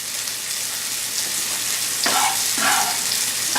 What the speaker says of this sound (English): once my sausage has browned a bit, I'm going to pull that actually out of my skillet